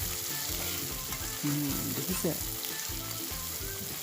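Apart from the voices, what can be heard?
chicken frying in a pan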